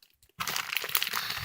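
Vinyl plastic packaging torn and crumpled right up close, a near-silent pause giving way to a continuous dense crinkling and crackling that stays loud and steady to the end, with no voices.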